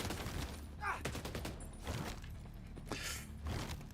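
Video game gunfire rattles out in several rapid bursts, volleys of shots separated by short gaps and fairly close.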